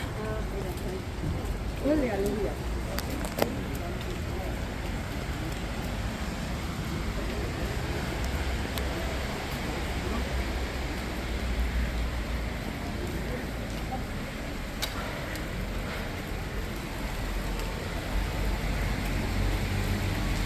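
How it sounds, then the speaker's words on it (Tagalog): Heavy rain pours steadily as a dense, constant hiss and patter across the whole stretch, with a few faint knocks and muffled voices now and then beneath it. "Lakas ng ulan."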